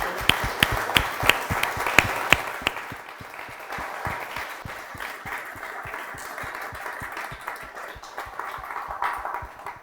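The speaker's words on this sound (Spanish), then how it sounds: "Un aplauso" Applause at a science and technology talks event in the Canary Islands, starting with a few loud, sharp claps and settling into a steady, moderately loud patter of clapping from a seated audience, with no voices over it.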